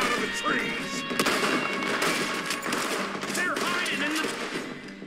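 Gunfire in Red Dead Redemption II, a dense run of rapid shots and sharp cracks with echoing tails, loud and close throughout, mixed with someone speaking over the action.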